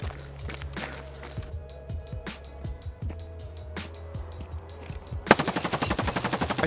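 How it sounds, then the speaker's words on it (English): Gunfire in Escape From Tarkov: scattered shots and footsteps at moderate distance, then a loud rapid automatic burst near the end. "It wasn't long before I heard a bunch of shooting."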